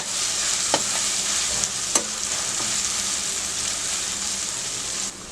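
Onion frying hard over full flame with ginger-garlic paste, a steady broadband sizzle throughout with a few sharp spatter pops near the start, close and fairly loud, no voices.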